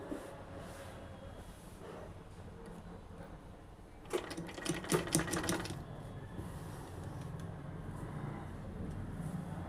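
A sewing machine with a dull needle runs a short burst of stitching along the side seam of a dress, a quick rattling run of a second or two over a steady low room hum.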